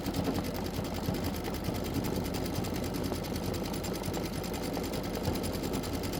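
An embroidery machine runs a fast, even stitching rattle as it sews the outline of a Kimberbell Stitchmas tree through layered fabric. The sound is steady and continuous throughout.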